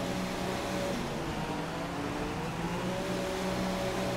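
Racing-game Formula 1 car engine in F1 2016 at the Russia circuit, a steady droning hum held at a low, even level throughout with no talk over it.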